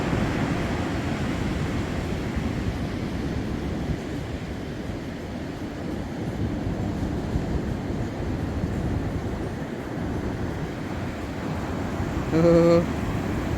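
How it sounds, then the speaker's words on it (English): Ocean waves rolling onto a beach in Tofino, B.C., make a steady broadband wash that continues throughout, with a short extra sound near the end. "Look at these waves."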